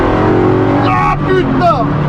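Ford Mustang GT500 Eleanor engine roaring loudly and steadily from inside the car during an overtake, with people talking over it.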